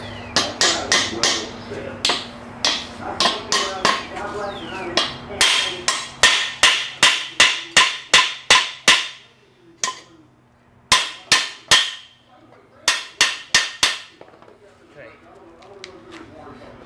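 Hammer blows ring on steel while working a VW Beetle's lower firewall member, sharp metallic strikes in quick bursts and a steady series, close and loud, with pauses between groups.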